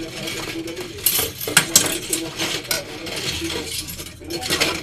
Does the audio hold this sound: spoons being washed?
yes